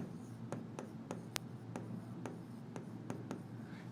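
Pen on paper while a maths problem is worked out, a series of short dry strokes and taps, close and fairly quiet, each stroke separate, over a steady low room hum.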